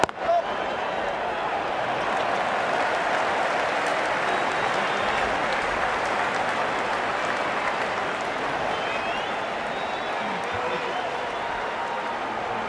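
A stadium crowd applauds and cheers in the Ashes Cricket video game during a New Zealand versus South Africa World Cup match, a steady, dense wash of clapping that holds evenly from start to finish.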